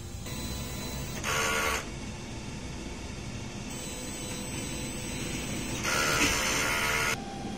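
A DTF printer running a head cleaning hums and whirs steadily, with two louder bursts of mechanical buzzing as the print head moves, each lasting about a second.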